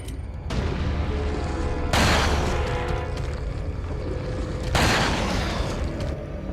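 Repeated gunfire from the Resident Evil 4 video game, heavy booming shots at roughly three-second intervals over a dense, noisy in-game background, loud and close.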